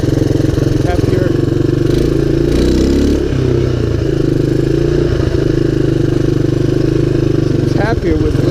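A 1985 Honda ATC250ES three-wheeler engine runs steadily on extra choke, a loud, close, continuous low idle with a few uneven stumbles and blips, while a voice talks over it.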